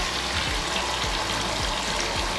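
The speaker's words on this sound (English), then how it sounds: "I'm adding also more water because I didn't think it could cover it all." Water pouring steadily into a tub of clothes being stripped, a loud continuous gushing rush with a low pulsing churn underneath, close and without talk.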